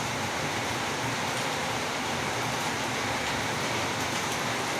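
Steady morning rain falls outside, a dense, constant hiss that stays even throughout with no talk over it.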